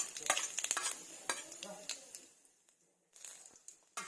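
Cumin seeds crackle and sizzle in a little hot oil in a pan, with scattered sharp pops and spoon clatter close by that fade away, while someone speaks over the cooking.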